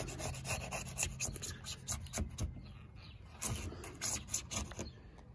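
Razor blade scraping a Filon fiberglass surface while preparing a truck camper for slideout installation, a run of short rasping strokes repeated in bursts, close and moderately loud, with no talking.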